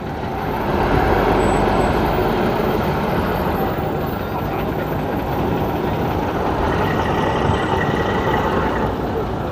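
A vintage Ikarus bus at an oldtimer meet in Chemnitz gives off a loud, broad engine roar that swells as it accelerates, then holds steady, with traffic-like noise around it.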